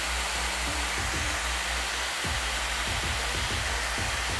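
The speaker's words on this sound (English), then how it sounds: "And then I'm going to hit it with a hairdryer to set it in place." Close, loud hair dryer blowing on styled wet-look hair, a constant roaring airflow with faint low thumps and shifts as it moves around the head, no talking.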